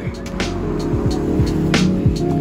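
A car passes along a Paris street, its engine and tyres rising and falling close by against steady street noise, with no talking.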